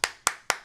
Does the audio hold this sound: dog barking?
no